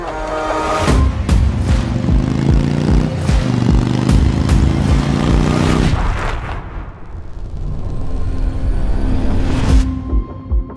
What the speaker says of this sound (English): you just twist the throttle and this thing will rev to the moon